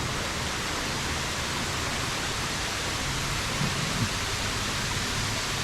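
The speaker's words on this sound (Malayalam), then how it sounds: "അതാണ് ഒരു വെള്ളച്ചാട്ടം" A waterfall in Munnar, heard as a constant, broad rushing roar of falling water with no breaks, steady and full from start to finish.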